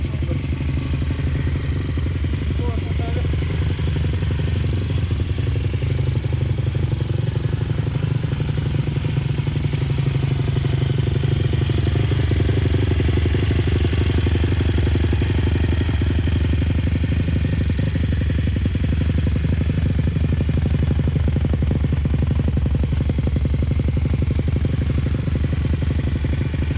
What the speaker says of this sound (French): le moteur tourne hyper rond